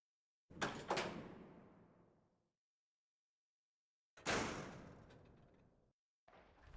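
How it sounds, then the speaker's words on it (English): Heavy door in the survival horror game Resident Evil 0, opening with a loud thudding burst that rings out and decays, followed a few seconds later by a second loud slam, then the start of another hit. "Open the door."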